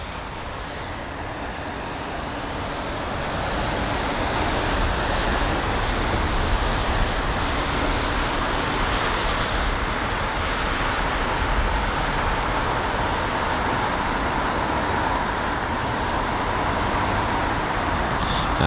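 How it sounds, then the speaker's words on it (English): An Airbus A330 touching down on runway 09 left at London Heathrow, a steady broadband roar that swells after a few seconds and holds loud and continuous, with wind-like rush and no voices. "And so you've got the A330 just touching down there"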